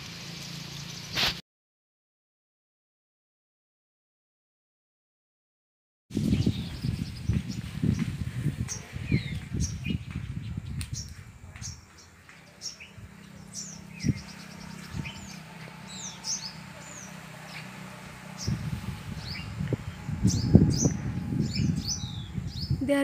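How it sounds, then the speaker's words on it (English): Springtime birds chirp and tweet in short, scattered calls over a steady outdoor background of rustling and low wind noise, after a brief silent gap near the start; the calls sound moderately distant and no one speaks. "Children, you can hear birds chirping."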